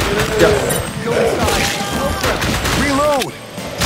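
Rapid gunfire from the arcade shooter House of the Dead 2, bursts of shots mixed with game sound effects and music, loud and continuous over a few seconds.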